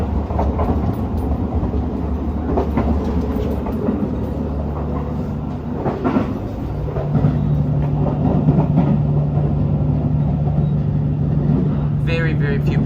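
A Japanese scenic train runs along the Sea of Japan coast between Akita and Aomori, its steady rolling rumble and faint rail clatter filling the carriage with a sustained hum underneath.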